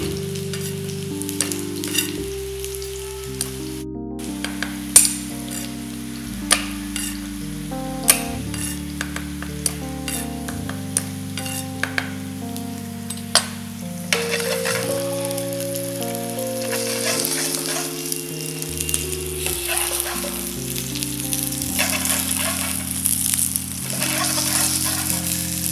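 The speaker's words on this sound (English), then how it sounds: "So we'll be cooking it to get a nice, to basically to sear it and to get a nice caramelized color on this particular potatoes." Potatoes sear in a hot pan for a caramelized color, a steady sizzle running throughout with occasional sharper crackles and stirring clatter over a background of tonal music.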